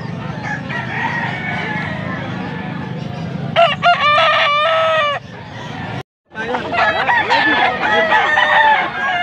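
A rooster crows loudly nearby, then crows again after a brief gap, with some clucking and background chatter.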